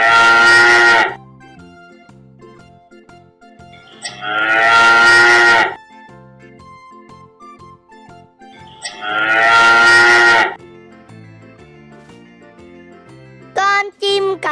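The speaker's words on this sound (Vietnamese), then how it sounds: "Con bò sữa." A dairy cow moos three times, long, loud and close, with quiet gaps between calls and faint chiming music underneath, followed by a brief burst of a different sound near the end.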